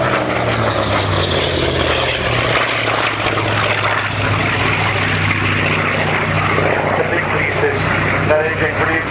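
A single-seat fighter plane's 2,500-horsepower radial engine turns a 5-bladed propeller of nearly 13 feet at an air show, a loud sustained roaring drone heard under a commentator's continuous talk.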